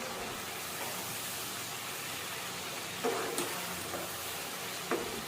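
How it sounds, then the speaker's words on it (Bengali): Spice paste for a raw mango pickle stirred and fried on medium heat, a steady soft sizzle with a few brief scraping stirs near the end, no talking. "এবার ভালোভাবে নাড়াচাড়া করে মশলাটাকে আমি কষিয়ে নেব মিডিয়াম আঁচে দশ মিনিটের মতো"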